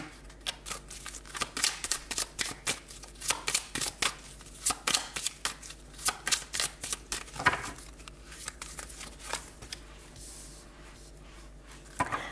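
Oracle cards shuffled by hand, a run of crisp, close riffling flicks and slaps in uneven bursts throughout, alone with no talk.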